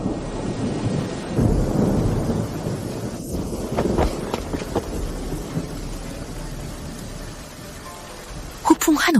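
A thunderstorm with steady heavy rain roars continuously, with deep rumbling thunder swelling and rolling throughout and a sharp crack near the end, loud and close.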